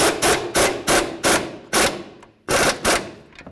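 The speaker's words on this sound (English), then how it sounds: "Use your 19mm socket, snug this up." A 19mm socket snugging a nut on the front upper control arm of a 2005–2015 Toyota Tacoma, giving a run of about eight sharp, close metallic clacks in a fairly regular ratcheting rhythm.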